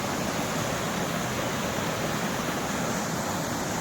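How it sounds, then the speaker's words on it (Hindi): A waterfall at the Maa Khudiyarani Dham garden pours down into a deep pit, a dense, steady broadband roar heard close and loud with no pauses. "एक वाटरफॉल यहाँ है और दूसरा वाटरफॉल संभवतः वहाँ है"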